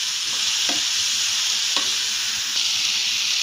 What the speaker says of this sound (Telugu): బీరకాయ ముక్కలు 10 నిమిషాలు సిమ్లో మగ్గనివ్వాలి